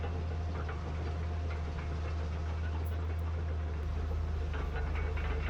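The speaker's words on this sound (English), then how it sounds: "Listen to the sounds of the dozer when it's cutting." A Caterpillar D11 bulldozer slot dozing, its heavy diesel engine giving a steady, loud, low drone that holds an even pitch throughout with no voices.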